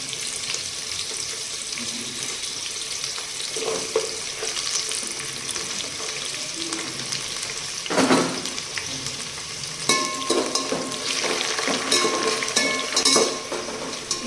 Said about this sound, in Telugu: కొంచెం మగ్గిన తర్వాత ఆనియన్స్ కొంచెం వేగాలి, వచ్చిందాక కొంచెం వేయించుకోవాలి